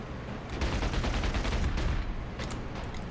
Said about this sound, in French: Ah, il me tire dessus.